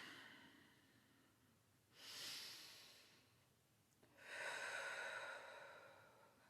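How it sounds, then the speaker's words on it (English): Two slow, deep breaths, each a long airy inhale and exhale rising and fading, close and quiet, with a gap between them. "let's take a couple of nice deep breaths"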